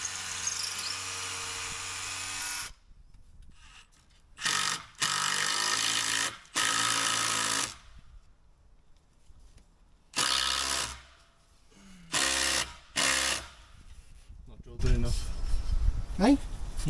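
A power drill boring into roof timber in several separate bursts of high whining, each lasting one to two seconds with quiet gaps between them. Voices talk at the end.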